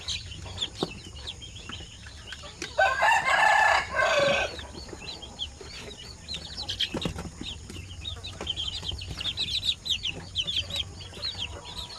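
Chickens cluck and a rooster crows loudly near the middle, over steady farmyard chatter and chirping from a poultry setup raising incubator-hatched chicks.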